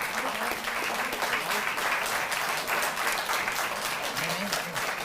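A crowd claps steadily at a Delhi government ceremony honoring medal-winning athletes, the applause continuous and fairly full but recorded at a moderate distance, with a faint voice briefly audible beneath it.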